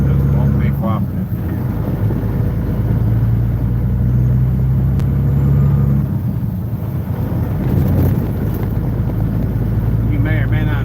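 A truck's engine rumbles loudly in the cab as gears shift without the clutch during a drive from Indianola, Mississippi to Memphis, with the revs changing around the shift and a voice talking over it.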